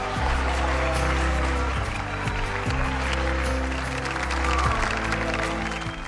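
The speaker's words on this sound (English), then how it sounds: "met with cheers and applause from everyone around them." Cheering and applause from a crowd aboard a cruise ship, a steady loud wash of clapping carried over prominent low music throughout.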